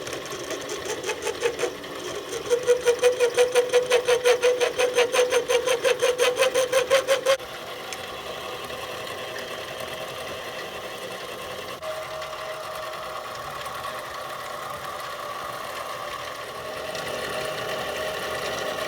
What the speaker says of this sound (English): I'm using this end mill here in my tailstock, a 1/4 inch end mill with a flat cutting face